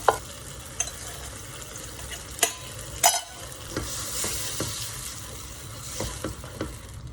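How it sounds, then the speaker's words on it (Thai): Clams are stir-fried with chili paste sauce in a wok, with sharp spatula clanks and scrapes at irregular intervals over a bubbling sizzle. The sound is close and fairly loud, with no voices. "ผัดให้เขาเดือดค่ะ แล้วก็มีกลิ่นหอมค่ะ"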